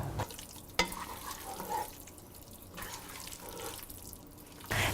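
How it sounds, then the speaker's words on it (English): Spiced chicken pieces with lemon juice are stirred in a pan, giving soft, uneven scraping and sizzling with a sharp knock near the start and a louder rustle at the end, with no talking. "we want to add the chicken pieces and mix until the spices completely coats the chicken"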